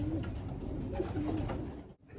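Pigeons in a loft give a few soft, low coos, close and brief, over a quiet background.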